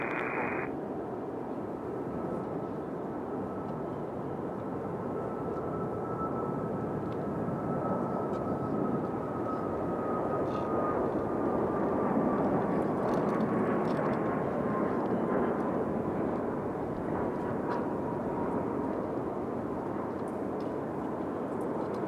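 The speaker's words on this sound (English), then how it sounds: "And our JetBlue A220." A JetBlue Airbus A220 jet airliner at Raleigh-Durham International Airport gives a steady, loud broadband roar that builds slightly and holds, with a faint descending whine riding over it, with no talking.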